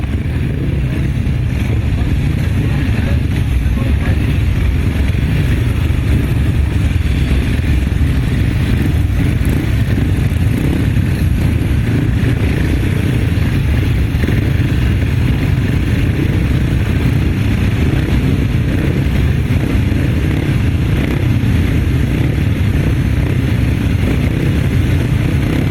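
Solo upright racing motorcycles at a grasstrack meeting roar continuously, a dense, loud, steady engine drone that holds through the whole stretch with little variation.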